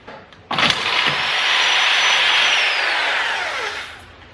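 A power drill boring into the metal frame of a Toyota Tacoma, a loud close whine starting abruptly and holding a strained pitch for about three seconds before trailing off as the bit spins down.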